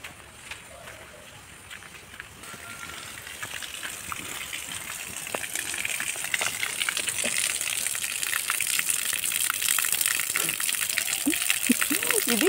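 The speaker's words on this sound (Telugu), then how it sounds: "ఇది వాటర్ ఫాల్స్." Water gushes from a small tunnel waterfall, a steady broadband rush that grows louder as it draws nearer, with light footsteps and a few scattered noises.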